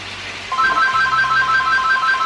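A telephone rings in a home kitchen, a clear electronic ringtone that starts partway through and holds as a steady repeating tone, loud and close, with no talk.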